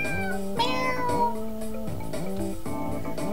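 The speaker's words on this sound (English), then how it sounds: "Kitty, meow." In the video game Dawn's Light, a cat meows repeatedly, four drawn-out rising-and-falling meows in a steady rhythm, clear and close against a faint background.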